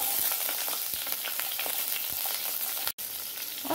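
Garlic cloves and green chilies frying in hot oil with mustard seeds, a steady close sizzle with crackling pops throughout, briefly cut near the end, with no talking.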